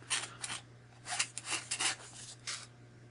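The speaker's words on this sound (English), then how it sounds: "I'm using one of my needle nose jewelry files." A needle nose jewelry file rasps against a watercolor paper bracelet in a tight spot, several short close scraping strokes in an uneven rhythm, quiet and alone over a low hum.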